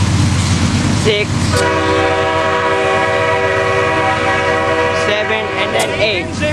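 Loud, sustained rumble of a CSX freight train with eight locomotives passing close by at Folkston, with steady droning engine tones and a horn-like harmonic hum.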